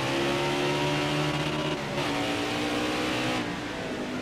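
A NASCAR race car engine in NASCAR Heat 5 revs near redline with a loud, sustained high-pitched whine that dips briefly twice and then holds, with no voices.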